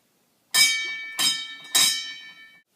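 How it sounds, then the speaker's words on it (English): An alarm bell rings three times in slow succession during a stage performance of Macbeth, Act 2 Scene 3, each loud clang decaying slowly into the next, alone against silence. "Ring the alarm bell!"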